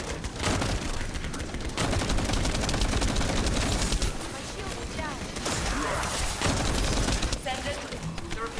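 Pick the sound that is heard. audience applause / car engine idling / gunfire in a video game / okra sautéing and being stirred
gunfire in a video game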